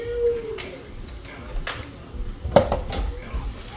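Mustard seeds, fenugreek, ginger and garlic tipped into a cooking pot, giving a couple of clear metallic clinks and scraping knocks against the pan amid soft kitchen background noise.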